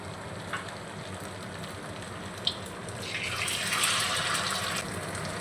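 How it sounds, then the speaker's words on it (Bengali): Raw potato snack pieces dropped one by one into hot oil give a soft, steady bubbling sizzle with small clicks. The frying swells louder and hissier as more pieces go in. "এবার আমি একে একে তেলের মধ্যে দিয়ে দেব।"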